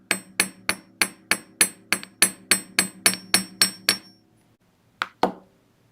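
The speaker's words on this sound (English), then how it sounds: "Now I might go ahead and hammer this side as well." Jewelry wire for wire-only earrings is flattened with a hammer in a quick run of about thirteen sharp, ringing taps, close and loud, followed by a short pause and two final strikes.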